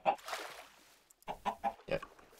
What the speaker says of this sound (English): The chicken slows me down.